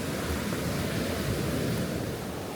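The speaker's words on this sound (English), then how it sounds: "The waves are getting closer." Sea waves wash onto the beach near Bamburgh, a steady, broad rushing roar of surf that stays loud and continuous throughout, with no voices.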